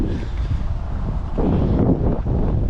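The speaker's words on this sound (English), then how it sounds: "I guess that's a little windy here." Gusty wind buffeting a microphone outdoors beside a Lincoln Town Car, a steady low rumbling roar that swells and eases, with no other clear sounds.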